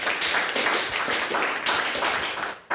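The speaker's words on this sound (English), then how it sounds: "Oh yes, rounds of applause." A town-hall audience gives a round of applause at a public discussion, dense and continuous clapping that fills the room for a few seconds before cutting off abruptly.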